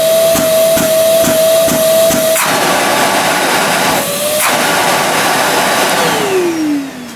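Bosch GAS construction vacuum cleaner running loud and close, a steady whining roar with a few sharp knocks early on, then the motor pitch drops as it spins down near the end.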